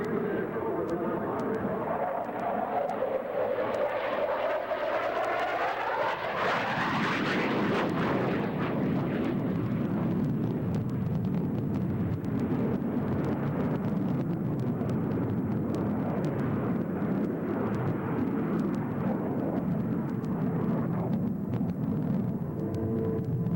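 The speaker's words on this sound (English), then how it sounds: "our Tomcat will return from the left for a medium speed pass upside down" An F-14 Tomcat jet flying at a 1987 airshow. A loud, continuous roar fills the whole stretch, and a rising whine sweeps upward as it passes, then settles into heavy broadband thunder that lingers.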